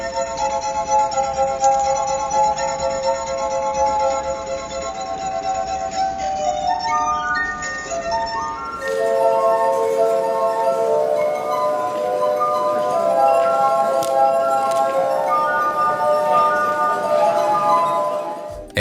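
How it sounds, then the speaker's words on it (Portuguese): A glass harp of 33 water-filled glasses, played with wet fingers by a street performer, sings sustained, pure ringing tones that shift from note to note and overlap into a shimmering melody, clear and close. "uma harpa de vidro feita com 33 taças"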